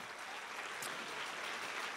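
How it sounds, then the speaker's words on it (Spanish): A church congregation gives a sustained round of applause to God, a dense, even wash of clapping at moderate level for the full two seconds. "Si le va a dar ese aplauso a tu padre, dáselo bien."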